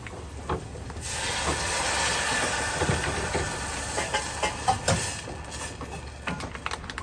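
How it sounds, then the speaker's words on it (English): Sugar gets a quick fry in a pan in a boat galley in the middle of the Atlantic, giving a steady, loud hiss that fades into scattered clatters and scrapes. "give it a little quick fry"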